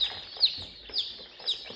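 Hens in a laying-flock pen of Speckled Sussex, Dark Cornish, Polish, Barred Rock, Silver Gray Dorking, Black Cochin and Salmon Faverolles give a few soft clucks and short squawks close by.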